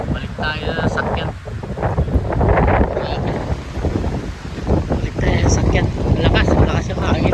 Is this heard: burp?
no